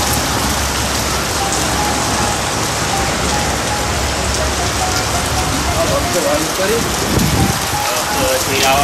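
Heavy rain pours steadily in a dense, continuous wash, loud and close, with a few faint voices beneath it toward the end.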